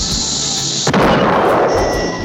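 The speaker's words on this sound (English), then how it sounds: "They're going to use rocket propulsion to help it cross the street." Cartoon rocket propulsion launching the Pink Panther across a street: a loud sustained whooshing roar that suddenly bursts into a broader blast partway through.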